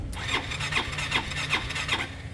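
A motorcycle engine cranks over and over without catching, its battery reading about 11.3 to 11.5 volts. The starter churns close and loud in a steady, repeating rhythm of roughly five strokes, with no one speaking.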